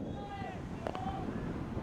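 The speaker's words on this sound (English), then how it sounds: "Wind really gusting." Gusty wind buffets the microphone at an outdoor winter soccer match, a steady low rumble, while faint whistling tones and a brief clatter pass in the background.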